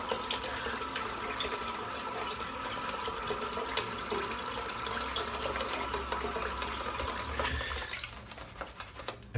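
Water runs steadily from a tap into a sink while a head is being shaved, a continuous close splashing stream that carries on for several seconds before easing near the end.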